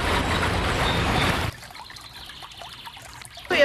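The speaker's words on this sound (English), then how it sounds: "an area where the tributary flows into the main river is called the confluence" Water from the River Pool tributary trickles and pours into the River Ravensbourne at their confluence. A steady, close flow fills the first half, then drops to a quieter, distant babble before surging loud again at the end.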